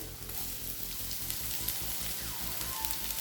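Steady sizzling of carrots, beans, cabbage and capsicum sautéing in a hot pan, a continuous crackling hiss with faint clinks, no talking.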